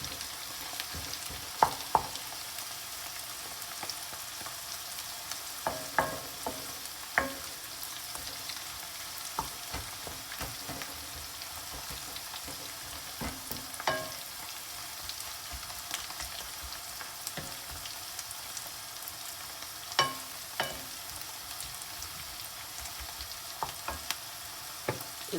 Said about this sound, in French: Bien mélanger.